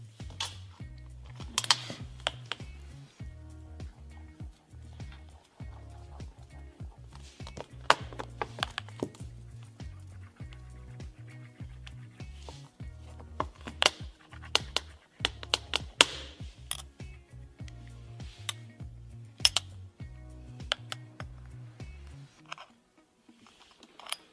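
Metal keys scrape and tap against the body of an iPhone 8 in a durability test, a long run of close, uneven clicks and scratches with no talking.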